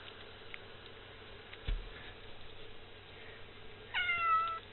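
A cat out in the snow lets out one short, rising meow at the very end, after several seconds of quiet with a faint knock and light shuffling.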